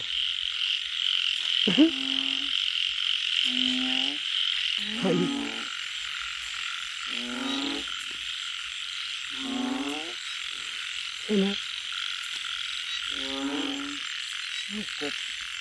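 Frogs croaking around a pond at night, a chorus of repeated rasping croaks roughly every second or two over a steady, high insect-like drone, close and loud, with no voices.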